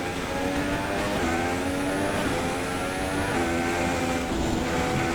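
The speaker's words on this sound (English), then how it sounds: "As I can just hear Jensen Button's Honda engine right behind us" A Honda Formula 1 car engine close behind in the F1 2016 racing game gives a loud, continuous high-pitched whine with rising and falling gear-change sweeps over a steady engine roar, no talk.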